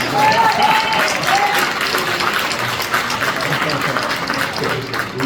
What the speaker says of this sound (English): I'm going to ask everybody to give Keith Freeman a round of applause.